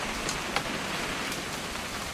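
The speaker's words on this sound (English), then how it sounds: "It's gonna rain the whole weekend" Steady rain in the video game What Remains of Edith Finch, a dense, even hiss of falling drops with a few brief louder patters, continuous throughout.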